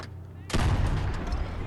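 A tank cannon in the video game Call to Arms - Gates of Hell: Ostfront fires a single loud, sharp blast that booms and rolls away into a long rumbling tail after a brief quiet lead-in.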